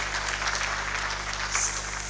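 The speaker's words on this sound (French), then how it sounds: "demander une motion d'applaudissement pour le comité d'action nationale" An audience applauds the national action committee at a Senegalese youth empowerment opening ceremony, a dense, continuous patter of many hands heard from a distance over a low steady hum in the hall.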